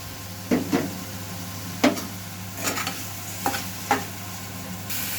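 Mashed flat-bean paste and tomato go into a hot frying pan with a soft sizzle under several sharp scraping and clattering strokes of a spoon stirring in the pan.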